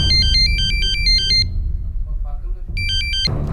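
A mobile phone ringtone plays a loud, repeating electronic melody in quick stepped notes, breaks off briefly, then starts again near the end.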